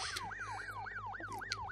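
Wailing siren in the puzzle game Crazy Machines 3, a rapid repeating rising-and-falling whoop cycling about every quarter second, steady and moderately quiet over a low hum.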